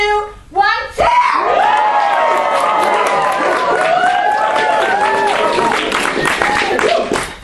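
A studio audience bursts into loud cheering, whooping and clapping. A short spoken countdown comes first, then sustained crowd noise fills the room.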